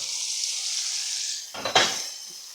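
Onion and minced meat fry in a pan with a steady bright sizzle, then a clatter of stirring and the food being shifted around the pan near the end. No one speaks.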